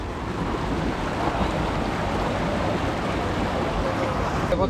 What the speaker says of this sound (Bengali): ঝিরি থেকে পানিগুলো দিকে চলে আসছে